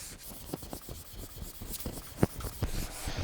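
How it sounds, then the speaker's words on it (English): Hand sanding of a nitro lacquer finish on a custom Flying V guitar body, close rasping strokes in an uneven rhythm with a few sharper scrapes, no voices. "I am going to start sanding it"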